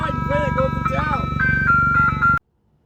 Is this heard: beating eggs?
no